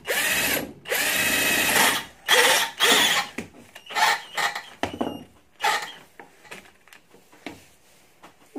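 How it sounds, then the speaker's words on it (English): A power drill drives a screw into the core of a Euro lock cylinder in loud, whirring bursts of a second or two, starting long and then becoming shorter, choppier pulses. "And we're going to drill him into the center of that core."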